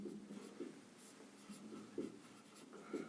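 Chalk or marker writing out a math solution on a board, with faint, repeated scratchy strokes in short bursts in a quiet room.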